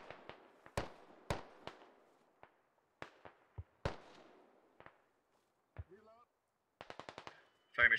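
Scattered gunfire and distant mortar blasts in the military shooter Squad, a string of sharp cracks and dull booms at irregular intervals, ending in a rapid burst of closely spaced shots.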